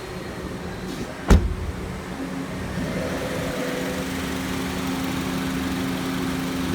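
High-velocity air rushing from an HVAC supply vent makes a steady, broadband hiss that swells slightly stronger partway through, with a sharp knock near the start and no talking.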